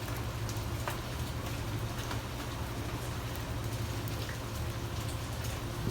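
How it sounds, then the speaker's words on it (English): Heavy Key West rain falling without pause, a thick constant patter with scattered louder drop hits standing out, near and uniform in level, no voices. "I guess this would be called Key West Rain"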